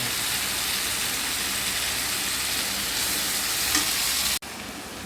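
Eggplant and potato pieces fry in a pan with a steady, loud, dense sizzle that runs unbroken, then a brief dropout near the end before the crackle resumes slightly quieter.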